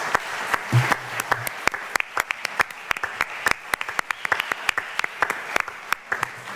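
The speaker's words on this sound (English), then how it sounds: "let's give another round of applause for our round 4" Sparse applause from a modest audience at a US Cyber Games draft day event, individual claps distinct and fairly close, irregular and steady throughout with no talking.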